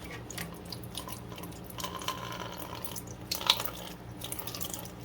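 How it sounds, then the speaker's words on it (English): Water from a Kohler Cimarron toilet being serviced spills and trickles into a bowl below, a steady close splashing stream with occasional drips, no talk over it. "we're going to have a little water coming out. Luckily it's hitting down in our bowl, so it's okay."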